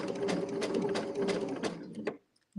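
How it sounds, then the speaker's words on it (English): A sewing machine stitching a free-motion quilted floral quilt block, a fast, steady mechanical whir with rhythmic needle clatter, close and loud, stopping abruptly before briefly starting up again. "I'm going to do just a little back stitch"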